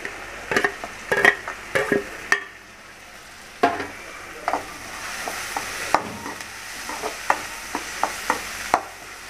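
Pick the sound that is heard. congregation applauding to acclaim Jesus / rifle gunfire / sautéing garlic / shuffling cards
sautéing garlic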